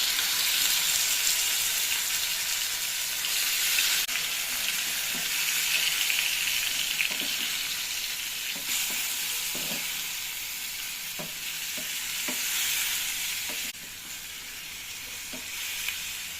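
Overnight-marinated chicken frying in a pan, a steady, close hiss of sizzling oil throughout, with intermittent soft scrapes and knocks of stirring.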